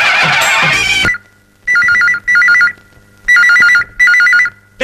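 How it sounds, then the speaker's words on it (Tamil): A telephone rings loudly and close in a repeating electronic warble: four distinct ring bursts with short gaps, following a brief burst of louder mixed sound at the start. "போன் அடிக்கிறது"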